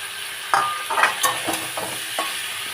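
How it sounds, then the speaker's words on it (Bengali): Fried pointed gourd pieces tipped into sizzling masala in a pan and stirred, several distinct scraping stirs over a steady frying hiss, close and fairly loud, with no speech. "এই পটলগুলো দিয়ে দিলাম, ভাজা পটলগুলো।"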